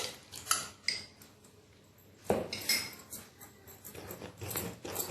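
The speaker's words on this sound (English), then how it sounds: "We mix all these dry ingredients properly and put curd in it" A spoon stirs dry ingredients for khaman dhokla, including gram flour and a pinch of turmeric, in a bowl, giving scattered clinks and scrapes against the bowl in short bursts, close and fairly clear, with no talking.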